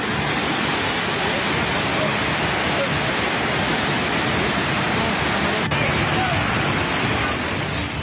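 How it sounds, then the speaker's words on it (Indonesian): An overflowing river in Leato district, Gorontalo City, sends floodwater rushing through a residential neighborhood, a loud, dense, unbroken roar of churning water that holds steady for the whole stretch. "Inilah detik-detik meluapnya air sungai di wilayah Kecamatan Leato, Kota Gorontalo yang menerjang permukiman warga"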